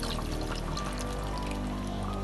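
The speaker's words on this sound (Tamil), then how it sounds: "கொஞ்சமாக புளித்தண்ணி." Tamarind water poured into a pan of simmering paruppu urundai kuzhambu with curry leaves, a steady close liquid pour over broadband pan noise, lasting about two seconds without speech.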